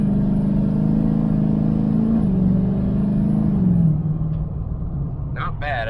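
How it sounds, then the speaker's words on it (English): A Chevrolet LML Duramax diesel truck fitted with a 65mm Wold Fab turbo pulls away from a stop. A loud, steady engine drone shifts upward as the turbo spools, then eases off while a faint high whistle rises near the end. "It actually spools up fairly decent."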